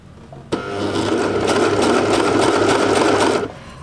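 Sewing machine stitching a seam on knit fabric, a single steady mechanical whirr with rapid needle ticking that starts abruptly, runs for about three seconds, then stops, close and alone.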